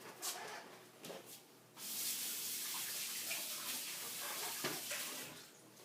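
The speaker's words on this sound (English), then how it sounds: "I'm going to wash my hands a little bit right here because they're pretty sticky" A kitchen tap runs steadily as sticky hands are washed under it, a close, continuous splashing gush that begins after a few soft knocks and handling sounds.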